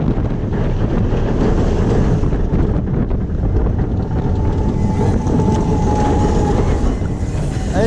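Steady loud rumble of the Cheetah Hunt roller coaster train rolling into the brake run and slowing at Busch Gardens Tampa Bay, with wind buffeting the microphone and a faint high whine near the end.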